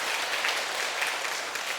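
A church congregation claps during a Sunday service, honouring teachers and children, producing a soft, even wash of applause that continues steadily throughout.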